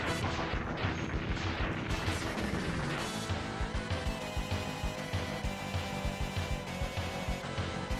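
Weapon fire in the SNES game Mega Man X3, a steady rapid stream of sharp blaster shots over busy game music and effects, loud and continuous throughout.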